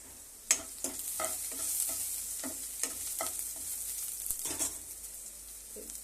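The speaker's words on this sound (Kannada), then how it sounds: "ಈರುಳ್ಳಿ ಫ್ರೈ ಮಾಡ್ಕೊಂಡಿದ್ದೀನಿ ಒಂದು ಏಲಕ್ಕಿ ಒಂದು ಲವಂಗ ಒಂದು ಚಕ್ಕೆ ಪೀಸ್ ಹಾಕ್ತಿದ್ದೀನಿ" Onion frying in a pan with whole cardamom, clove and a piece of cinnamon, giving a steady sizzle with a series of clinks and scrapes from stirring at an uneven pace.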